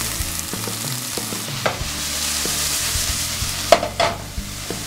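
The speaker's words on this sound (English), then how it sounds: "So inside, love that sizzle." Onions sizzle in a pan with a constant close frying hiss, along with occasional utensil taps and a couple of louder clinks near the end, no speech.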